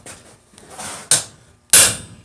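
Close, ringing hammer strikes peen a rivet for blacksmith tongs: two sharp metallic blows about half a second apart, preceded by lighter taps and shuffling noises, with no talking.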